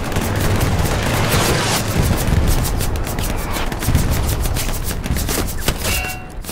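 Explosions and gunfire in the video game Hell Let Loose rumble continuously, a dense, loud barrage of booms and shots with no clear gaps, ending with a brief quieter moment.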